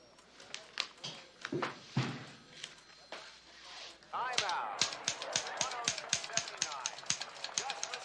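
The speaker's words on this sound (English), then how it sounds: "Am I typing disturbing your ball game?" A typewriter clacks at home in a TV drama scene with a ball game on in the background. Sharp strikes come in a brisk, uneven rhythm and grow louder and denser partway through, with voices underneath.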